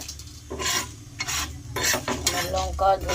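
Dried red chillies and whole coriander seeds dry-roasting on a hot, oil-free griddle, with a spatula scraping and rasping across the pan in several separate bursts, close and moderately loud.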